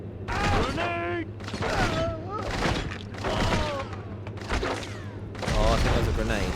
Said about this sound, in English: Oh, I think that was a grenade.